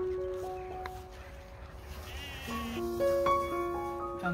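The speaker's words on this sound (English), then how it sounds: "We've moved Ronnie and the old sheep we call Jane in with the Leicester Longwools." Leicester Longwool sheep on a farm bleat several times in a row, the calls overlapping at moderate distance over a quiet outdoor background.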